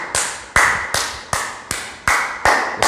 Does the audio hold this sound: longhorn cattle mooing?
no